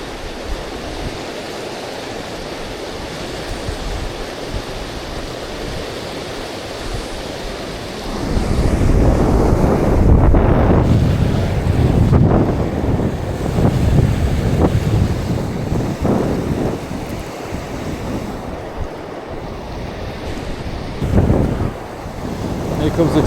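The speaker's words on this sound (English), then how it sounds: "comes the dreaded wind." Gusting wind buffets the microphone beside the fast water of the River Tay in Scotland during spring salmon fishing, starting low and steady, then surging loud from about eight seconds with roaring, rushing gusts over the river.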